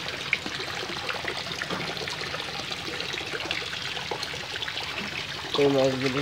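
Water trickles and splashes steadily into a tank holding tilapia fish, a continuous moderate flow heard close by with faint background noise and a short louder burst near the end.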